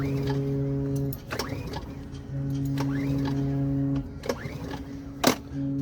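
A small generator for a boat's air conditioning is cranked repeatedly but fails to start, with bursts of mechanical turning and sputtering between steady tonal hum, close by.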